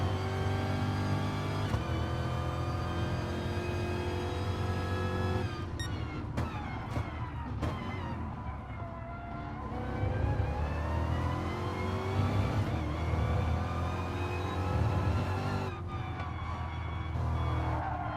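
GT4 race cars lap the Catalunya circuit in a racing video game, engines droning steadily with rising and falling revs through gear changes, a close pack of cars heard under a constant mechanical whine.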